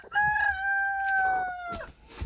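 A broody hen gives one drawn-out, tonal call lasting over a second, close by, followed by soft rustling.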